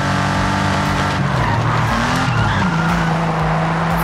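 A racing car engine revs hard in Forza Horizon 5 while tires squeal and skid, the pitch shifting up and down through the whole short burst.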